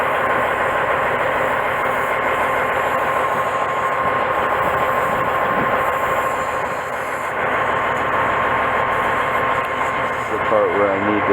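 A vehicle air bag pumped to 120 psi leaks with a loud, steady, close hiss that runs unbroken throughout, with a voice briefly under it.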